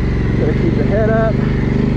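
A motorbike engine runs steadily while riding around a backyard with ATV tracks, a continuous close drone with shifting pitch, with a voice talking over it.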